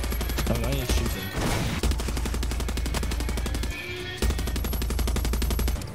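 Rapid automatic gunfire in a Half-Life game, a loud continuous rattle of closely spaced shots that runs almost the whole time with only brief breaks.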